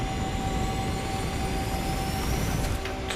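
A Ferrari F12 Berlinetta in a racing video game roars under nitrous boost, a dense, steady, loud engine and rushing whoosh holding for a few seconds with a faint high whine on top.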